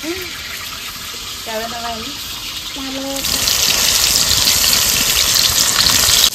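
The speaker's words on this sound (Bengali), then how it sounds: "পটলগুলো একটু তেলে ভেজে নেবো।" Pointed gourds (potol) drop into hot oil. A voice speaks briefly, then a loud, continuous frying sizzle starts abruptly and keeps going, close and steady.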